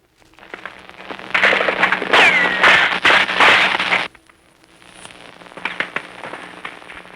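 Combat from the Battle of Kwajalein in 1944, with bullets flying and landing: crackling bursts rise and build for a few seconds, then cut out, and scattered sharp cracks follow at lower level.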